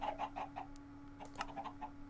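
Flock of chickens clucking in Minecraft Sky Factory 3, a string of short soft clucks in a steady pattern over a constant low hum, faint and with no talking.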